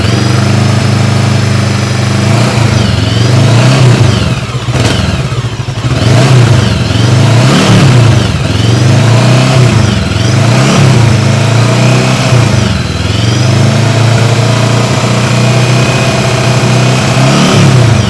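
An FKM Express 500 SC motorcycle sits parked while its engine is revved hard again and again, loud and close, with steady throttle blips rising and falling over a deep idle.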